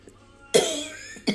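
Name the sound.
cough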